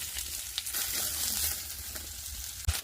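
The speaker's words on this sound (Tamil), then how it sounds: "6 மூடி தேங்காவை வதக்கி எடுத்துக்கலாம்" Grated coconut sautés in a hot pan with a soft, steady sizzle close by, broken by occasional stirring scrapes and a sharp clink near the end.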